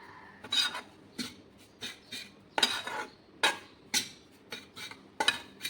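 A metal spoon stirs a cardamom and milk powder mixture for wheat-flour peda in a pot, scraping and clinking in about a dozen close, uneven strokes with brief pauses between them.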